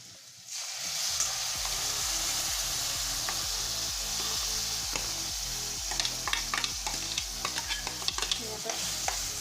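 A pav bhaji potato and vegetable mixture is stirred in a hot pan, giving a continuous loud sizzle with rhythmic scraping and clattering strokes.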